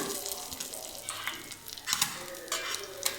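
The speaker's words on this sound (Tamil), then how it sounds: "மீன் கொஞ்சமாக தான் போட்டு பொரித்து எடுத்தேன்னா" Fish fries in oil in a covered pan, giving a quiet, continuous sizzle with soft crackles and occasional stirring or clinking noises.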